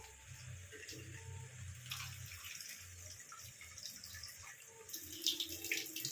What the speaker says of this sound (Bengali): এর মধ্যে এবার আমি পরিমাণ মতন জল দিয়ে দেবো